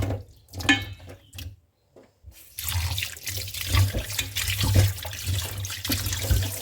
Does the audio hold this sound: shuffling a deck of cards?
no